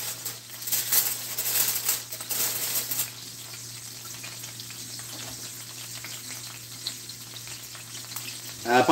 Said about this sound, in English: Frying up the bacon first, and then I'll do the egg shit.